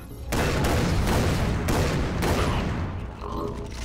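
Gunfire from the video game Far Cry 3: Blood Dragon, a loud, dense fusillade of rapid shots with booming hits running almost continuously, easing slightly near the end.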